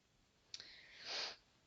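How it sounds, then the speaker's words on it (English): A single faint mouse click on an on-screen OK button, a short sharp tick followed by a soft breathy rush of noise in an otherwise quiet room. "And now you can click on OK"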